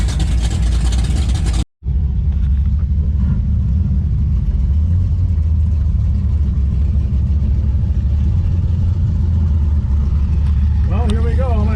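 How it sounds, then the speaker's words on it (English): A green AMC AMX drag car rumbles nearby at a drag racing event, a heavy continuous low throb heard from inside another car, with a brief cut early on and a rising rev toward the end. "That green AMX next to us is literally rumbling this entire car."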